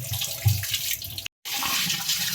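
Water from a kitchen tap runs steadily as ginger is rinsed clean of soil, a loud close splash broken by a brief silent cut.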